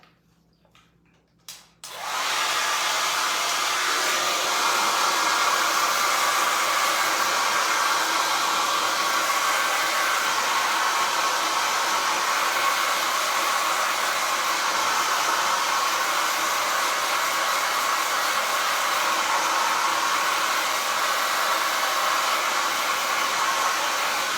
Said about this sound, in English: I'm going to take a hair dryer, kind of speed this one up